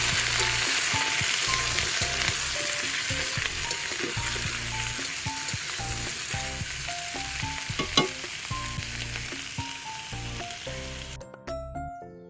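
Small-cut eggplant pieces fry in a pan with green chilies and black cumin, giving a loud, continuous close sizzle with light stirring scrapes that cuts off near the end.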